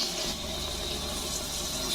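Water running steadily from a tap on a drinking-water setup, a constant close rushing hiss with a low pump-like hum beneath, brief and even throughout.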